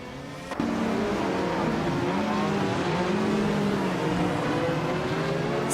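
Rondo M382 race cars from 1982 in a racing video game, a sudden onset of loud, steady engine drone with shifting pitch as cars accelerate, continuous to the end.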